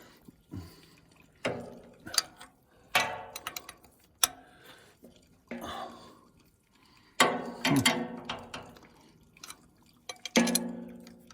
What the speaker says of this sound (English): I can barely get a wrench on it for that matter.